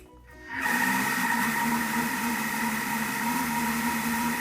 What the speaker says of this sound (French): Lorsque votre beurre a suffisamment ramolli, le robot tourne avec aisance et là vous pouvez le laisser tourner tranquillement 1 ou 2 minutes